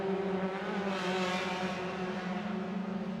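Saloon race cars in an MRF Challenge circuit race, engines revving at high pitch as they pass with a swelling then fading roar, steady and moderately distant, with no talking.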